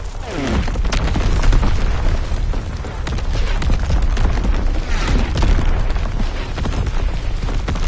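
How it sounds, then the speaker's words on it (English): Bombs burst in a video game battle as a loud, dense barrage of booming explosions with rumbling low end, overlapping one another without pause for the full stretch. "Enemy bomb incoming."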